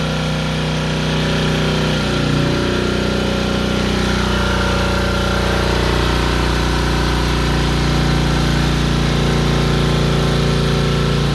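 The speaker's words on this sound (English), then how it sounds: "it's asking a little bit out of that poor little generator" A small Champion portable generator engine runs steadily close by, its loud, constant drone dipping slightly as a heater load pulls on it, with no voices over it.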